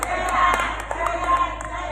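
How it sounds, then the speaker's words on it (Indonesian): An audience at an NU women's event in Indonesia cheers, shouts and claps all at once for about two seconds. The sound is busy and fairly close, with voices mixed in. "Tepuk tangan."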